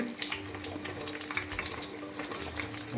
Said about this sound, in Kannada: ಹಾಗೆ ಎರಡು ಕಡೆಯೂ ಚೆನ್ನಾಗಿ ಅದನ್ನು ಫ್ರೈ ಮಾಡಿ